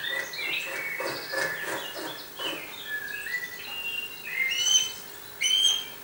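Ospreys call at their nest in spring at the Chambord estate, a run of sharp, repeated whistling chirps in bursts that grow louder toward the end, close and clear over quiet surroundings.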